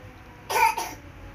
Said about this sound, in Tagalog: may umuubo pang bata dito sa likod ko